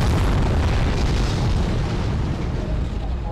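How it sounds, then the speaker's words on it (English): Missiles explode in the sci-fi action game Advent Rising, a loud, continuous rumble of booms and blasts with no clear gaps between them. "Oh, but you're still gonna fire missiles at me."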